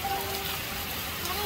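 Steady rain falls outdoors at a home damaged by fire, a dense continuous hiss with faint voices underneath.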